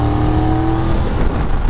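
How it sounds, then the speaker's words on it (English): A 2023 Triumph Tiger 1200 Explorer Rally motorcycle engine drones steadily and loudly at a constant pitch, close by, with no voices over it while riding through Vermont. "The engine is plenty powerful."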